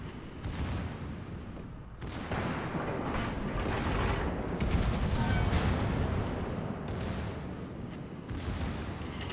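Heavy naval guns and secondary batteries firing in a warship video game, a continuous dense roar of booming salvos and rumbling blasts with a brief lull near the start, loud and layered, no talk.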